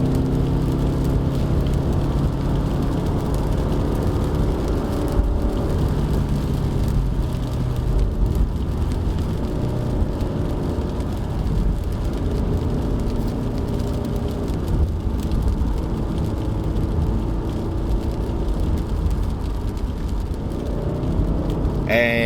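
A 2020 Subaru XV GT Edition all-wheel-drive car driving on a wet mountain road, with a continuous interior engine drone and tyre hiss on the wet surface, gear-held engine note rising and falling slightly, no speech.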